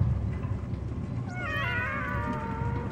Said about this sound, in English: But they clearly sound like cats, or they're demons of another world.